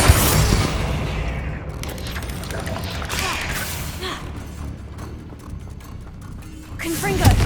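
A Bombarda blasting spell erupts in Hogwarts Legacy during a spider fight in Aranshire, a loud close boom opening the clip, then grinding, clattering debris and rumbling combat noise, with a second burst near the end.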